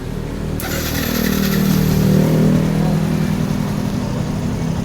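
Yamaha FZ motorcycle with a faulty starter relay, its engine catching after a start attempt and settling into a loud, steady close idle with a slight swell in revs.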